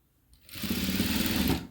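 A sewing machine runs in one steady burst, stitching piping with a fast, even mechanical whir after a brief quiet start.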